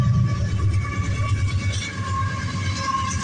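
A westbound CP intermodal freight train rumbles past at close range, a steady loud roll of wheels and railcars with a faint high squeal and no break in the din.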